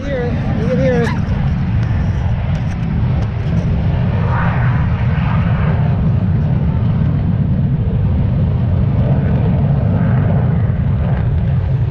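Vintage military aircraft Doc, a B-29, runs its engines at the Dayton Air Show, a loud continuous low rumble under crowd noise and an announcer's voice.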